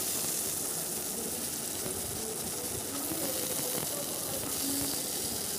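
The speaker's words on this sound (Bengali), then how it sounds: "দিয়ে দিচ্ছি আলুর টুকরোগুলোকে। আলুটাকে একটু নাড়াচাড়া করে ভেজে নিচ্ছি।" Potato pieces frying in hot oil in a wok, giving a steady, broad sizzling hiss that stays fairly even throughout, with faint stirring noises beneath.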